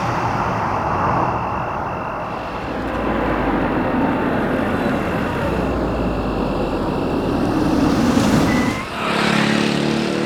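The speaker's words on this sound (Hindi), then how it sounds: "आ गई हसीना जी की गाड़ी।" A car approaches with a steady engine and road rumble that swells briefly near the end before settling.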